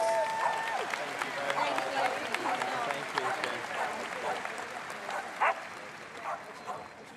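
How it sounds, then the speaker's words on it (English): Applause from the crowd at a Crufts agility championship final for small and medium dogs, sustained clapping with a dog barking a few times over it and voices around. "Please keep the applause going, folks"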